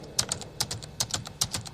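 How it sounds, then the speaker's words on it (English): Keys clatter on a typewriter-style keypad as notes are entered into Sibelius notation software, a quick, irregular run of about a dozen crisp clicks, close and moderately loud. "I can either input the notes onto the virtual score on the screen by this typewriter pad here"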